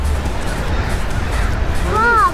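Crows cawing in a city park in Sacramento, California: a few harsh, stacked caws arrive near the end over a steady outdoor wash, fairly close and clear, with no talk over them.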